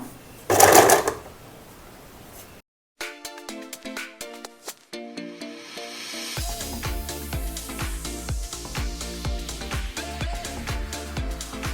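A domestic sewing machine stitches pleats into a puff sleeve, starting with short bursts and then running in a fast, rattling, rhythmic whir, close up after a brief handling thump.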